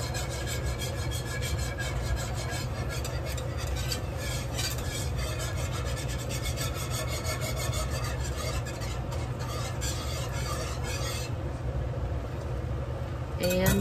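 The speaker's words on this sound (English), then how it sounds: "Give it another whisk. It's starting to thicken." A whisk scrapes and rasps steadily around a pan of thickening sauce seasoned with onion powder, a continuous close rubbing texture that holds nearly level from start to finish.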